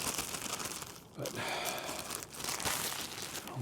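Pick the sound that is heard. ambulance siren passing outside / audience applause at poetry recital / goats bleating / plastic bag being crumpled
plastic bag being crumpled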